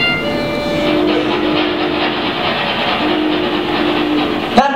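Train sound effect played during a live Harry Potter puppet show at a fan convention: a steady rolling rumble with faint clickety-clack and a whistle-like tone, continuous and loud, cutting off abruptly at the end.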